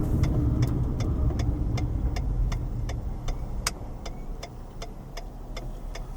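A car drives down a street in Aliquippa, Pennsylvania, with a steady engine and road rumble from inside the vehicle and a regular ticking like a turn signal over the top, no talking.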